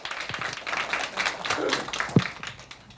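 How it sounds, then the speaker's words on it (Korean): Audience applause at a Korean community media festival forum, a dense, moderately loud patter of clapping filling the hall as a presenter is welcomed to the stage, with a sharp louder clap standing out near the end. "큰 박수로 맞이해 주시죠"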